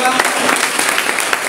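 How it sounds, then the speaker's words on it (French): A congregation at a church service claps and cheers for Jesus, a dense, continuous wash of applause with mixed voices throughout, steady and loud. "Acclame pour Jésus."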